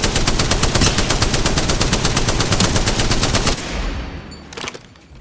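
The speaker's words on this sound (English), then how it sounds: "Opening fire on the enemy." Rapid automatic gunfire in the shooter game Apex Legends, a loud, steady stream of evenly spaced shots for several seconds that breaks off, followed by a few fainter scattered sounds.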